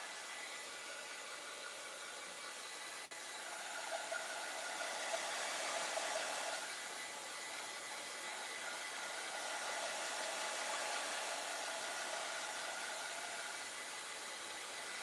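A hair dryer blows on the first layer of paint on a mason jar, a steady close whooshing hiss that runs unbroken for the whole stretch, briefly louder midway, with no talking.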